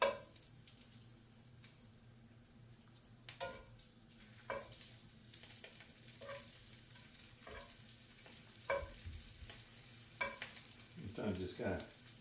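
Bacon frying in a pan at a farm breakfast, a quiet steady sizzle broken by repeated scraping and tapping of a utensil as pieces are stirred and lifted, with a brief clatter near the end.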